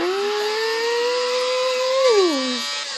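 A video-game motorbike called the Shuriken in Turbo Dismount whines with a steady high engine tone, rising slightly and then dropping in pitch near the end, with no talking.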